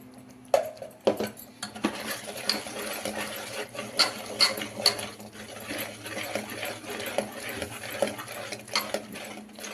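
Spoons adding chili powder to cooked dal with yellow cucumber in a pot, a series of light metallic clinks and taps against the vessel, irregular and close, with soft scraping between them.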